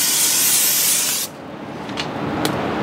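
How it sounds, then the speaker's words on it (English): A spray bottle mists down a hot Weber Q 2400 electric grill in one long, loud hiss that cuts off sharply, followed by two short, fainter spritzes. "So first thing I'm gonna do is spray down the grill."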